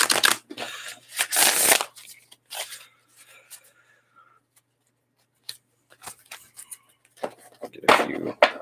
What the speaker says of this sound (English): These are very thick cards. They're a little bit more difficult to shuffle.